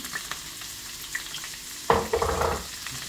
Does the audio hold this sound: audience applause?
no